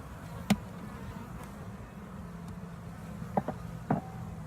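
Honey bees buzz around a hive beside brood comb, a soft constant low hum with a few brief louder buzzes as single bees pass close to the microphone.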